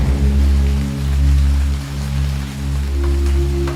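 Rain falls steadily as cozy background ambience, a continuous soft hiss of drops over a low, humming bed that gently swells and eases.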